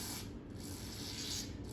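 Parts cleaner sprayed from an aerosol can down into a carburetor jet hole, giving a steady close hiss that runs unbroken the whole time with no talk.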